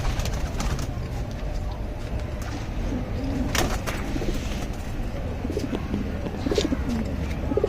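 Pigeons coo steadily in a pigeon loft of the Palla line, soft repeated throaty calls layered over a constant low background hum, with no talking.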